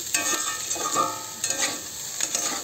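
Food frying in a pan being stirred, with a few close scraping strokes of a utensil over a steady low sizzle.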